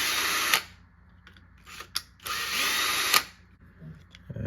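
Power drill backing two screws out of a Losi RC car differential: two sustained, close whirring bursts with a short pause between them, plus a few light knocks.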